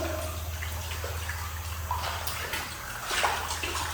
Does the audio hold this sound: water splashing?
yes